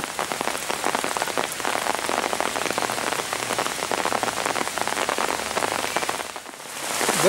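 Heavy rain pours steadily and loudly in a dense, continuous hiss that fills the whole stretch, with many close drops pattering on surfaces and a brief dip near the end before it swells again.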